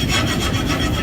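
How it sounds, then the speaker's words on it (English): Flux is scraped off a freshly forge-welded steel piece in a loud, close, continuous rasping rub lasting about a second, with no talk. "At this point, we can scrape the flux off."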